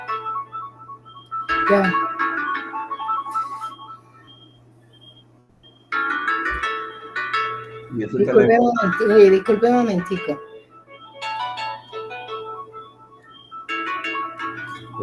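A mobile phone rings in a classroom with a repeating electronic tone in bursts, while people talk over and between the rings.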